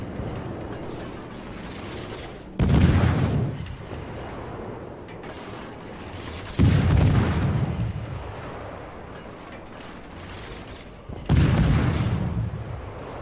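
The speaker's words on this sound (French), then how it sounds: "une belle séquence au canon" Naval cannons in World of Warships fire three heavy booming salvos, each a sudden loud blast with a rumbling tail, spaced several seconds apart over a steady low background of game ambience.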